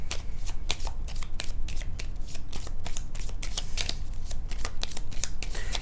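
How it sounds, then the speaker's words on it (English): A deck of cards for the Dune Imperium board game is riffle-shuffled close up, a rapid crisp flutter of card edges repeating steadily throughout without any talk. "Shuffle."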